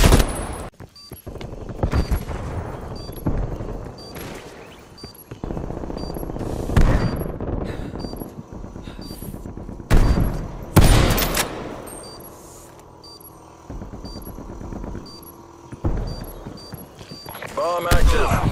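Sharp gunshots and bursts of automatic fire from the video game Call of Duty Black Ops Cold War, loud and irregularly spaced, mixed with in-game radio voices and talking between the shots.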